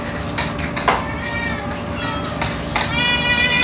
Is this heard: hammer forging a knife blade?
no